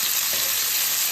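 Potatoes frying and being stirred in a hot pan with onions, mustard seeds, cumin, ginger and garlic, a loud close sizzle with a faint scrape of stirring, short and continuous, no voices.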